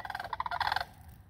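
Sandhill cranes give a rolling, pulsed bugling call outdoors in a valley, a quick train of rattling notes that rises, then breaks off into quiet, moderately close and alone.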